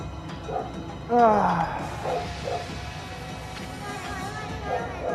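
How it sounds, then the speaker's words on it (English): A household dog gives a sharp bark and whining yelps near the start, then quieter yips, with someone talking and game sounds in the background. "This is just my dog barking."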